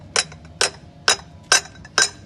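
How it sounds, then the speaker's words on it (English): A hammer strikes a part during a car oil change, landing five sharp, evenly spaced blows about half a second apart, close and loud. "with this hammer, just on the inside part of this hammer here, I'm just going to hit"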